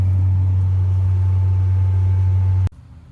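A tractor pulls a baler through a first-cut hay field at night, its engine a steady, loud, low droning hum that cuts off abruptly near the end, leaving near quiet.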